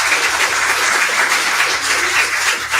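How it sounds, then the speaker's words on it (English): Loud, steady applause like a crowd clapping, a dense wash of claps with no pauses. "Let's give him a clap"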